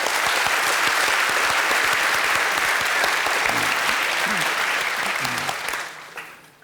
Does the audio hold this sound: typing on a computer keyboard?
no